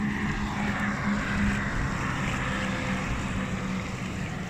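A Minn Kota Riptide 80 lb, 24-volt trolling motor drives a homemade barrel boat at about 500 watts. It makes a steady, loud electric motor hum with a low drone, and water and wind noise run beneath it throughout.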